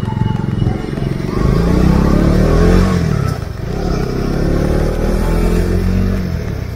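A motorcycle riding on the Mumbai–Goa highway, its engine droning and rising and falling with revs under strong wind rush, loud and close throughout.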